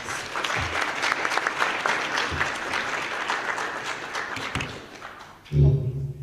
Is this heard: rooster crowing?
no